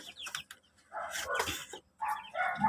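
Chickens, including one-month-old birds, cluck and chatter nearby in short bursts, with a few higher calls among them and brief pauses between.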